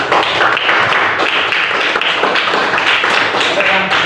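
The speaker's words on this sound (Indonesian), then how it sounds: "kasih tepuk tangan untuk semuanya" Applause for everyone at a school supervision gathering: a steady, loud wash of clapping from a group, continuous and even throughout without pauses.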